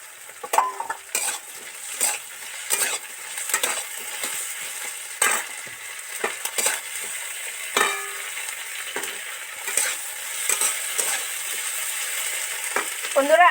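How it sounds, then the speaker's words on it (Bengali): Ground cumin, coriander, chili powder and ginger paste frying in hot oil in a pan, a soft steady sizzle broken by repeated sharp scrapes and clinks of a spoon stirring, with no talking. "এবার এই জিরে, ধনে, মরিচ গুঁড়ো আর আদার পেস্টটা দিয়ে দেব"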